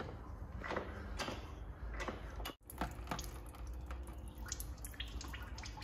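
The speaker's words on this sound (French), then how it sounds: "Donc là, ça a commencé à couler." During an automatic gearbox oil change, transmission fluid drips and trickles in a faint, irregular patter, with a soft knock partway through and quiet surroundings.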